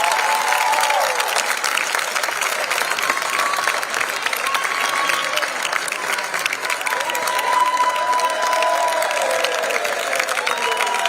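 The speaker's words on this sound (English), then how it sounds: "So a massive round of applause again for our two top goal scorers." A crowd at a university handball finals awards event applauds the top goal scorers, producing dense, loud, continuous clapping with scattered cheers and whistles throughout, heard close and with no break.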